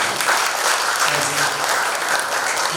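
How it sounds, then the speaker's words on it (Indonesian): An audience at a 2024 taxpayer gathering held by the Malang city regional revenue agency breaks into dense, steady applause, loud and close throughout, with a few voices mixed in. "Tepuk tangan sekali lagi."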